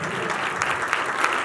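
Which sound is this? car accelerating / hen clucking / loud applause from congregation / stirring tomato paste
loud applause from congregation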